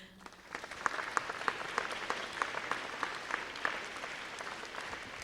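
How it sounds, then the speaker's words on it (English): Audience applause fills a Hall of Fame ceremony hall, a steady wash of many hands clapping with sharper individual claps standing out, moderately distant and continuous throughout. "Could we give another big red round of applause for both Adam and Ann Weinberg?"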